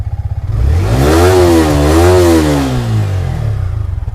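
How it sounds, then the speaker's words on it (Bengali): The engine of a 2021 racing blue Yamaha R15 motorcycle revs up and back down close by, rising to a loud whine before settling to a steady, pulsing idle. "সিঙ্গেল সেলফে স্টার্ট রেসিং ব্লু 2021 এর গাড়ি।"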